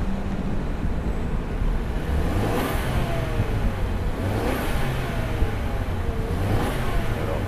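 Mercedes-Benz E200 Facelift engine revved to about 3,000-4,000 rpm, a steady mid-pitched hum rising and falling in three smooth swells, heard from inside the car with no talk.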